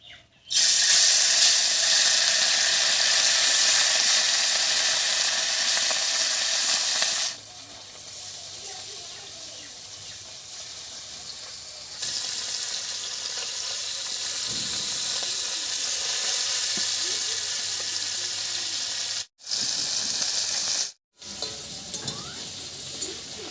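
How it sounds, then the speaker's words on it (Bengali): Fish sizzles and spits in hot mustard oil in a wok, a loud, steady frying hiss with bubbling crackle that continues throughout, dipping in level at times and briefly cutting out twice. "এবার কড়াইতে দেবো সর্ষের তেল তেল গরম হয়ে গেছে এবারে মেখে রাখা মাছটা ভেজে নেবো"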